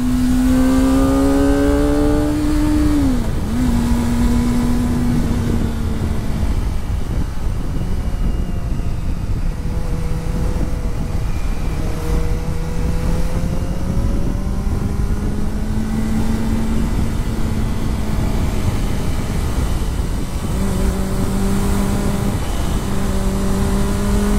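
A Kawasaki Ninja sport motorcycle engine revs steadily and loudly throughout, its pitch rising and falling over and over in one continuous run with no talk.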